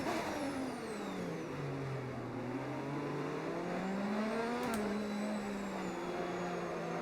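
A Formula 1 car in the F1 25 video game racing around Monaco, its engine a continuous high whine that sweeps up and down with revs and gear changes, steady and close with no talk over it.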